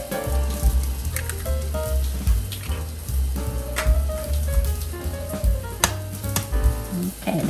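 Eggs cracked one after another against a bowl edge while making a breakfast egg pizza, sharp close taps and cracks scattered among kitchen noise with a busy rhythm.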